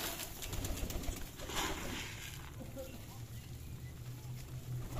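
Soft, low pigeon coos from racer and Giribaz pigeons repeat close by over a murmur of background noise, with a faint flutter partway through.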